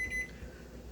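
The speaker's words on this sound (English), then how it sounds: "now that the microwave timer is screaming to be put out of its misery" A microwave oven timer sounds one brief, high electronic beep at the very start, then fades into a low kitchen hum.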